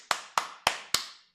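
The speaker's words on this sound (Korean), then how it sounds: "박수" Four loud, evenly spaced claps ring out one after another, each with a sharp crack and a short fading tail, with no voices alongside.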